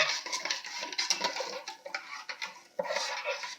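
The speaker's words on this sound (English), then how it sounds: "I put my lye container down, and then I'll just stir in" A utensil stirs lye solution into oils in a container for cold process soap, producing light scraping and clinking taps against the vessel in an irregular rhythm, close and moderately loud with no talking.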